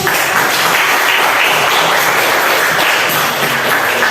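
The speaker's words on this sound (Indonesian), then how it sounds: "Tepuk tangan dulu." Dense, steady applause from a class of students fills the whole stretch, loud and sustained with no voices over it.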